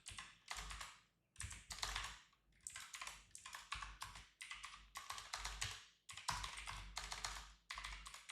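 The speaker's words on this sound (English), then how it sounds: "I'm just typing up this alert." Fast, steady typing on a computer keyboard, close and clear, in bursts of rapid key clatter separated by brief pauses, with no talking.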